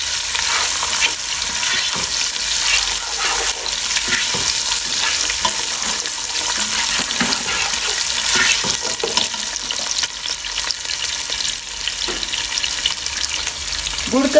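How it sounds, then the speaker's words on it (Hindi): Nuts fry in a pan for jaggery rice, giving a loud, continuous crackling sizzle close by with scattered stirring knocks over the whole stretch and no talking. "अब इनमें हम बाकी के नट्स ऐड कर लेंगे। इनको भी थोड़ा सा फ्राई कर लेंगे।"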